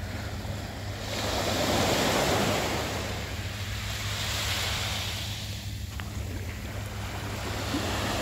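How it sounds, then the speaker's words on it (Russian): Steady surf foams onto the shore with a continuous broad rushing hiss and a low rumble, swelling gently, with wind buffeting the microphone throughout. "Волны пенятся у берега."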